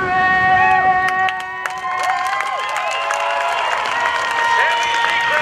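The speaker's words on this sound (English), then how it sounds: "Give her a nice round of applause" Outdoor crowd at a naval air station airshow applauding and cheering after the national anthem, a steady loud wash of clapping and shouts with distant whistles and a few voices over it.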